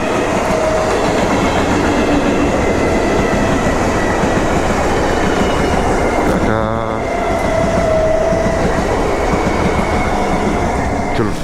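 A train rumbles past a railway crossing nearby, loud and continuous with rhythmic clatter of wheels on rails and a brief horn-like tone midway.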